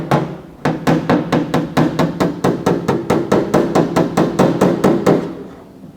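Steady hammer blows on a steel lower quarter panel of a Holden Torana GTR XU-1 LJ, about twenty evenly spaced metallic strikes in quick rhythm, loud and close, with no talking.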